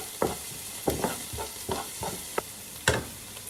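Tomatoes and spices being sautéed in a pan, with a low sizzle running beneath repeated scraping stirs of a spoon against the pan at an irregular rhythm, close and fairly quiet.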